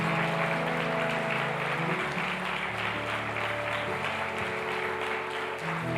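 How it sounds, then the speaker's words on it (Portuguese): Church congregation at a family worship service applauding the Lord, continuous clapping beneath sustained music with held keyboard tones, steady and fairly even in level. "Você pode aplaudir o Senhor"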